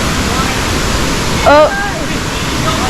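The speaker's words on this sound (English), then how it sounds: "Another waterfall." Aling Aling Waterfall in Bali rushing steadily as a dense, continuous roar throughout, with a brief exclamation from a voice partway through.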